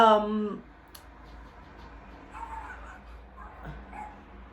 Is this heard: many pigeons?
no